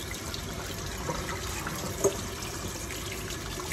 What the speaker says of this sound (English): And then rinse all of that.